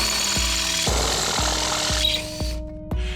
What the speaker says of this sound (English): Then you drill a couple holes in your metal stake that you're going to pound into the ground